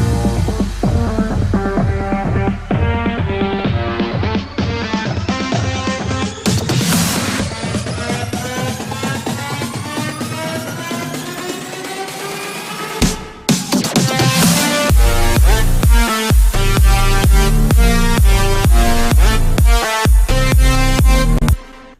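An EDM buildup plays loud and continuous, layered synths rising in pitch over rapid drum hits, breaking off for a brief gap before returning at full density with a shortened drum fill and steady pounding beats.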